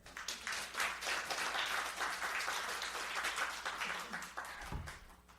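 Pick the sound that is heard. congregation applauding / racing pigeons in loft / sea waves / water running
congregation applauding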